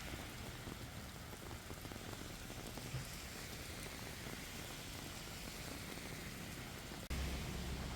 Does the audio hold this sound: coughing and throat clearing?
no